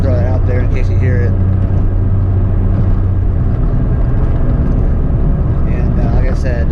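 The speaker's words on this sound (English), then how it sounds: "they agree it sounds like a straight cut gear" Transmission of a Pulsar on a test drive, a loud constant drivetrain drone with a whining straight-cut-gear character, heard from inside the moving car, with someone talking over it at the start and end.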